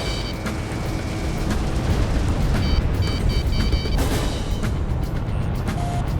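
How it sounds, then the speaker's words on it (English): Bombs blast an airbase runway in the Ace Combat 6 combat flight game, a dense, continuous rumble of explosions and booming impacts with no voices. "Our runway's being bombed to hell."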